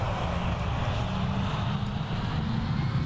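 A steady, droning aircraft engine spooling up before takeoff in a Roblox flight simulator, holding a constant low roar throughout with no voices.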